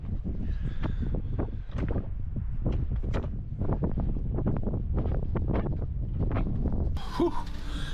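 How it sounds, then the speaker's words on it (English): Strong wind gusting and buffeting outside a camper, roaring in uneven bursts throughout, close and continuous, with no voices. "Can you guys hear that weather out there? It's absolutely crazy."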